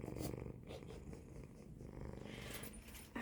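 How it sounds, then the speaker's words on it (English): A cat lying on a person's lap purrs loudly and steadily, a close, continuous low rumbling with a rhythmic breathing pulse throughout. "he purrs so loudly, and I love it"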